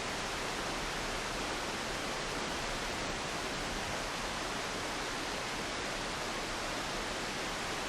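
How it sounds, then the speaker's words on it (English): Steady broadband rush of a waterfall in The Long Dark video game, loud and unbroken for the whole stretch with no voices. "the waterfall background noise makes it hard to hear"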